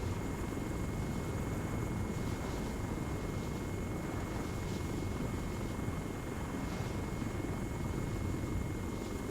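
Helicopter flying in the military video game ARMA 3, a continuous low rotor and engine drone with a steady high whine on top, unbroken and even in level throughout.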